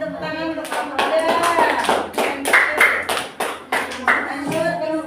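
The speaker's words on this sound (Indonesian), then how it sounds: "Tepuk tangan untuk kelompok 3" Audience clapping for group 3 at a classroom Islamic jurisprudence teaching session, steady close applause in bursts of rapid hand claps with brief dips, lasting about five seconds.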